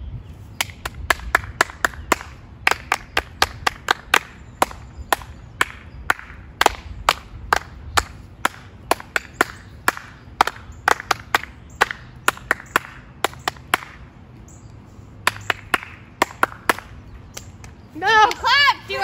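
Sharp hand claps ring out during a clapping ear-training game between roommates, dozens of crisp, close slaps in irregular bursts with brief pauses between runs, and a short voice cuts in at the very end.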